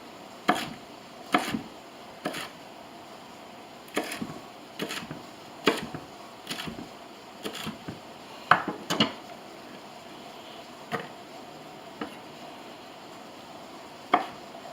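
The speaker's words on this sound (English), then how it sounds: "Now just cut it into slices." A knife slices through a halved, seeded sweet pepper on a cutting board, producing a series of crisp, evenly spaced chops up close, with short pauses between strokes and no talking.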